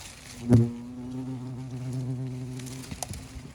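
Asian hornets buzz low near the ground in a nest, a close droning hum with a sharp loud rise early on, followed by a few light taps.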